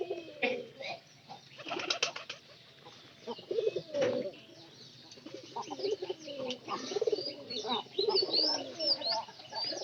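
Moulting home-loft pigeons coo and grumble in uneven bursts, close and fairly faint, with rustling between calls and no clear talk.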